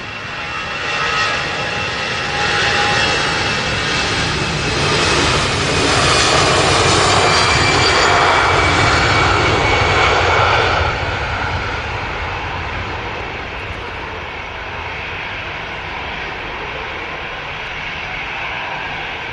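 A Condor airliner takes off with a loud, sustained jet engine roar that swells to a peak and then slowly fades as it climbs away and the landing gear retracts.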